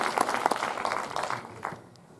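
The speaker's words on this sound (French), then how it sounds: "Ça fait plaisir ces applaudissements" A room of people at a film premiere and debate claps in fairly thick applause that gradually thins and fades out over a couple of seconds.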